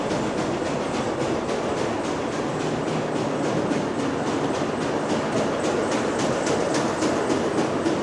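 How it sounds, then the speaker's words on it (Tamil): Steady machinery running below at a tea factory in Kausani, a dense continuous rumbling clatter with faint rhythmic ticks, loud and unbroken throughout with no talking. "கீழே மிஷின் ஓடுற சவுண்டு கேட்குது"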